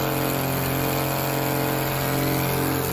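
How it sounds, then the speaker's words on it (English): The engine of a STOL airplane at a swamp short-takeoff-and-landing competition in Jennings, Louisiana throttles up, giving a loud, steady droning roar close by with no talk. "Adam Plunkett throttling up."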